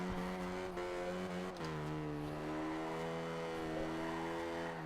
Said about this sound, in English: See if we can get a longer drift on.